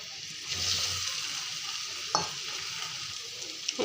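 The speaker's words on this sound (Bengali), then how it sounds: "অল্প সময় নাড়াচাড়া করে নিচ্ছি। এখন আলু ভাজাটা এটাও দিয়ে দেব।" Meat and fried potatoes being stirred in a pan, with a steady close sizzle, scraping spatula strokes and one sharp clank near the middle; no talking.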